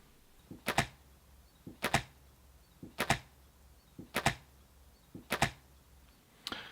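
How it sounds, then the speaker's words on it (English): A matched arrow leaving a longbow: five evenly spaced sharp twangs and thumps of the released string, each a crisp crack with a short ringing tail, close and alone against quiet background. "Here's an example of a matched arrow leaving a longbow."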